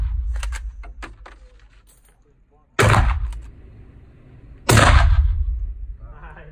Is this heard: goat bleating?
no